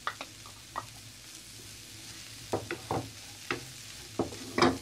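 Cabbage, chicken and potato filling stirred in a pan, a spoon scraping in scattered strokes with a faint sizzle beneath, close and fairly quiet, no talking.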